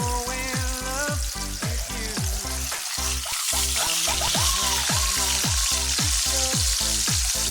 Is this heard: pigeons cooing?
no